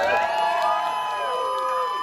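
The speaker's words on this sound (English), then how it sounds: "can we get a cheer for Stelia?" A drag show audience cheers and whoops loudly for a performer, a bright burst of crowd voices and shouts that carries on without pause.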